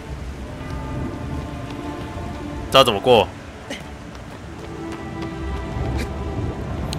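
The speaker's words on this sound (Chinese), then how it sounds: "这个下雨做的好逼真哦" Steady rain falls in the Shadow of the Colossus remake, a soft continuous patter with a low rumble beneath, while someone talks over it and a short burst of game sound cuts in midway.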